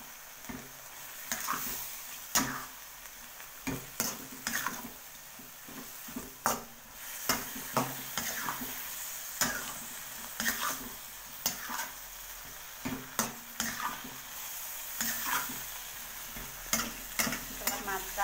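Spicy orek tempe, a dish of sliced tempeh, frying in a pan while being stirred: a continuous sizzle broken by repeated sharp spatula scrapes and knocks at an uneven rhythm, with no talk.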